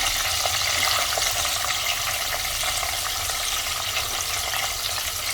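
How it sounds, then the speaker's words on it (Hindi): Cauliflower and potatoes frying together in a pan over high flame, giving a steady, loud, close sizzle that holds without a break from start to finish. "तो इसके साइड में आलू भी डाल दे रही हूँ ताकि दोनों एक साथ फ्राई हो जाए।"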